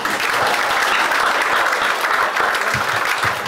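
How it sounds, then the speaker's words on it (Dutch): Warm crowd applause welcoming Sinterklaas at a Sinterklaas event in Zwolle, a dense, steady wash of many hands clapping that fills the whole stretch at even loudness. "laten we de Sinterklaas met een heel warm applaus welkom heten"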